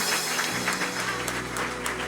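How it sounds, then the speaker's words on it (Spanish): Congregation clapping together during a Sunday church service, a steady dense patter of many hands at moderate loudness with no talk over it. "Un fuerte aplauso al Señor."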